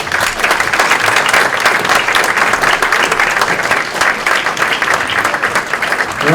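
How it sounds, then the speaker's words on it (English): An audience at an NAACP Freedom Fund awards dinner claps loudly and steadily for the awardees, dense close applause lasting the whole stretch with faint crowd murmur beneath. "Can we give these awardees one more round of applause, please?"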